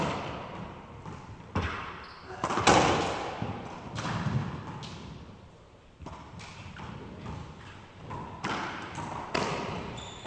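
Racquetball struck and rebounding off court walls and ceiling in a professional semifinal rally in Tampa, Florida, sharp thuds and smacks at irregular intervals with a hollow echoing court ambience.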